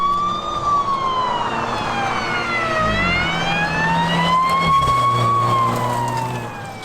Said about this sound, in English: Why is there a police car?